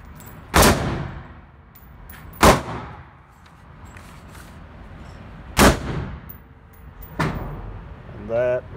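Shots hit steel targets at 7 yards with Federal Red ammunition. Four sharp, loud reports are spaced a couple of seconds apart, with ringing decay between them. A voice is heard briefly at the end.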